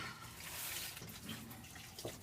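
Water runs steadily from a garden hose with a faucet fitting at an off-grid homestead in winter, a continuous mid-level splashing hiss with no talking over it.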